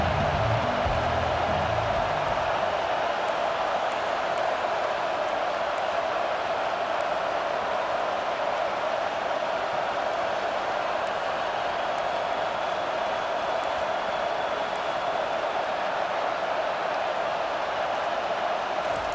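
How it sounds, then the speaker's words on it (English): A college football stadium crowd roaring in support of its defense during Michigan versus OU, a broad, sustained wash of noise that holds steady throughout at a distance. "This crowd rising up, sensing that its defense needs some help."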